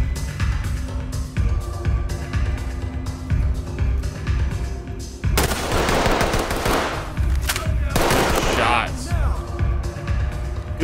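Gunfire from a SWAT team in the tactical shooter game Ready or Not: a loud volley of rapid shots rattles out in quick bursts, with some speech in the background.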